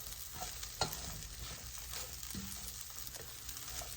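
Shrimp fried rice being stirred and mixed in a pan: a faint, steady sizzle with occasional soft scrapes and a sharper knock of the utensil, quiet and close with no talk.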